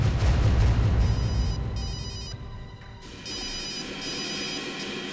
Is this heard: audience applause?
no